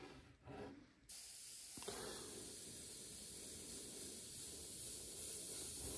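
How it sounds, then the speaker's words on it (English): An airbrush sprays paint onto an MPC Slave 1 model starship, starting after a second with a sudden close, steady hiss that holds evenly to the end. "is just putting a small amount through the airbrush at a time."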